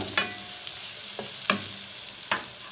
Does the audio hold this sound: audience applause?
no